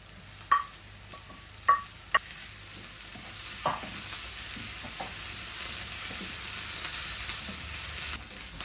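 Onions and chopped coriander sauté in a pan for Sri Lankan mithi vedi, with several sharp utensil clinks early on and then a steady, growing sizzle with light stirring.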